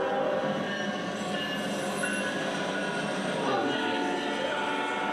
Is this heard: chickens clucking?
no